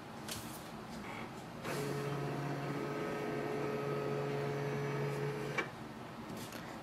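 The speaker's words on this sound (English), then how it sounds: "Close the lid and click on the scan icon." A Canon Pixma G6060 printer scans a page with a steady, close motorized whir and faint tonal hum. The whir runs for about four seconds and ends with a small click, with no talking.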